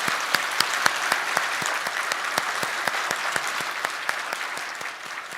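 A congregation at a Sunday worship service claps for a newly married couple: a sustained, even round of applause with sharp individual claps standing out, fading slightly toward the end.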